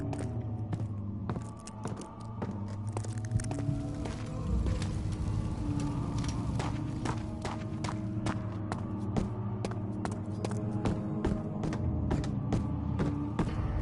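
Heavy doors creaking open in Amnesia: The Dark Descent, a drawn-out creak over a low mechanical rumble, with sharp knocks and clattering steps scattered throughout, moderately close and faint overall.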